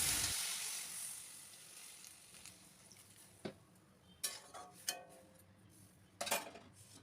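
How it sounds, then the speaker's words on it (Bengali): Potatoes and tender stems frying with salt and turmeric in a pan, a hissing sizzle that fades from loud to soft, broken by several sharp clinks and scrapes of a utensil stirring against the pan. "নুন হলুদ দিয়ে ভালো করে নাড়াচাড়া করে নিচ্ছি। একটু ভাজা ভাজা হয়ে গেলে"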